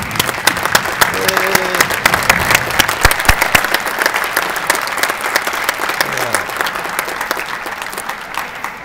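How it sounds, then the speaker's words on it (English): An audience at a fire department recruit graduation ceremony claps in a sustained, dense round of applause with sharp individual claps standing out, a few voices faintly mixed in. "let's give them a round of applause."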